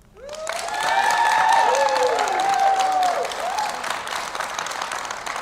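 An audience at a Santa Fe mayoral forum bursts into applause that builds fast and holds steady. Cheers and whoops rise over the clapping, which thins slightly near the end.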